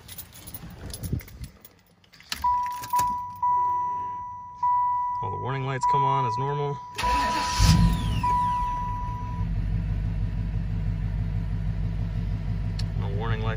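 A lifted 1995 Buick Roadmaster's warning chimes beep steadily before the engine cranks and catches, then settles into a low, steady idle. Someone talks briefly near the start.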